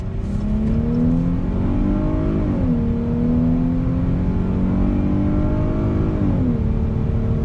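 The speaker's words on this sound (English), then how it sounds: "let's do another acceleration test." A 2020 Chrysler 300 accelerates hard on throttle, its engine note rising steadily with two smooth upshifts marked by brief dips in pitch, loud and continuous throughout.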